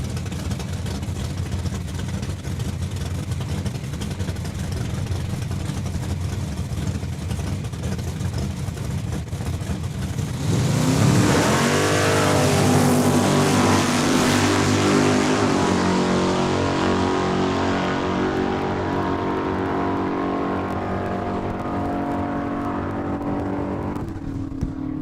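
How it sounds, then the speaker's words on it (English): A 1967 Chevrolet Camaro at a drag strip launches from the line, a loud engine roar building sharply and holding steady as the car accelerates away down the strip, with crowd and ambient noise beneath it. "All right, a first pair out of the burnout box, out of Glassland, Stephen Funk with the 67"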